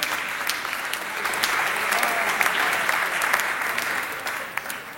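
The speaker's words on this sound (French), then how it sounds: "on applaudit maintenant qu'elle a ceint l'écharpe de 3e Dauphine, Miss Camargue" A large television audience applauds the second runner-up at the Miss France 1987 pageant, with sustained, even clapping from a big crowd heard from a distance, holding steady throughout before easing slightly at the end.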